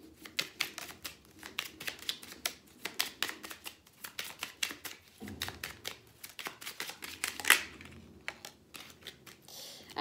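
Oracle cards are shuffled and drawn during a reading, producing rapid riffling flutters and sharp snapping clicks in close, quick bursts, with no voice over them.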